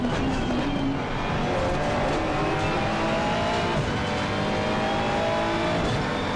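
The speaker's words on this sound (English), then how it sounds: "Let me start overtaking cars now." GT race cars in a racing sim game, engines droning continuously with rising and falling pitch sweeps as cars overtake, loud and steady throughout with no talking.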